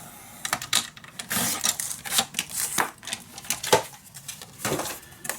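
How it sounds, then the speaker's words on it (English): Paper being scored and cut while crafting a mini album, a busy run of crisp scraping and snipping strokes, close and fairly loud, with no voice over it. "score and cut."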